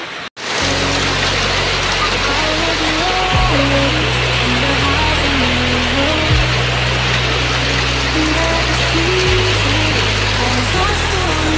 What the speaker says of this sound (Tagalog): malakas pa ang ulan